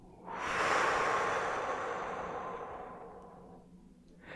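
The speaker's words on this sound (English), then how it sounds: "Take a deep breath in. Release that now." A single long, deep exhalation swells quickly, then tapers slowly over several seconds, breathy and close, alone in a quiet setting.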